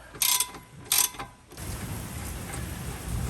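A ratchet loosens a tight T55 Torx caliper bracket bolt during a rear brake job on a 2015 Jeep Cherokee. Two short, loud ratcheting bursts come close together, followed by quieter background noise.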